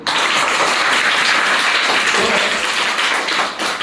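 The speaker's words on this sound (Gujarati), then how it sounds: "ચાલો એકવાર જોરદાર તાળીઓ." Children clap loudly and continuously in a classroom, a dense, steady roar of applause close by that fades slightly near the end.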